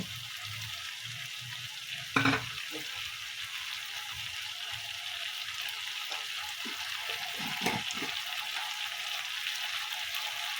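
Potatoes go into a frying pan for an echor chingri dish with chana dal, sending up a steady broad sizzle with a couple of brief clatters near the start and again toward the end, close and moderately loud, no talking.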